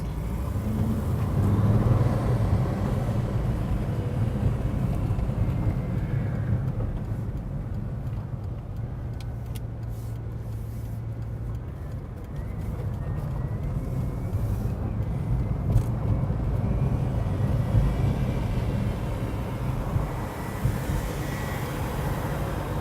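A Bugatti Veyron 16.4 Super Sport's engine rumbles steadily from inside the cabin, a deep sustained drone that swells and eases over some twenty seconds with faint road and wind noise.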